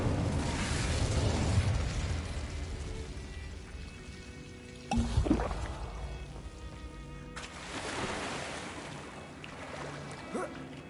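Confringo and Incendio spell explosions in Hogwarts Legacy, with rumbling fiery blasts, a sharp burst in the middle and a second roaring wave later over continuous game ambience.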